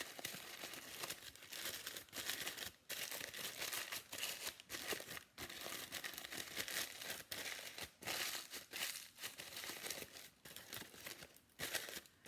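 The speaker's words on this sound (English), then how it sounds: "You could crinkle it. So crinkle it any way you want." Paper flower petal being crinkled and scrunched by hand, a dense, continuous crackling rustle with brief pauses, close and fairly soft.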